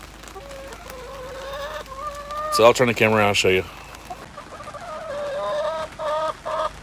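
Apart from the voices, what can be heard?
chickens clucking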